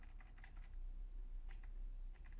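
Quiet keystrokes on a computer keyboard come in short bursts and single taps against a faint steady hum, with no talking.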